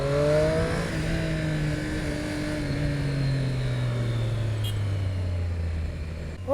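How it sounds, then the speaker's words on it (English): A loud 2019 Triumph Street Triple RS motorcycle engine with stock exhaust revs and holds a steady drone with falling pitch, close and continuous, ending in a sharp burst at the end. "Even with stock exhaust, it sounds beautiful already."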